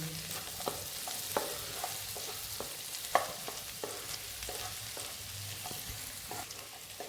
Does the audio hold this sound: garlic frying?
yes